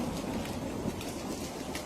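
Steady rain pours during a thunderstorm in Madrid, a dense, even hiss with low rumbling underneath, continuous and fairly close, with no voices.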